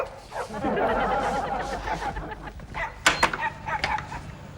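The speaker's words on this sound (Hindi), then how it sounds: "बाहर वाकई कुत्ता भौंक रहा है" Stray dogs bark outside at night in scattered bursts, some sharp and close, under a person's speech in a comedy scene.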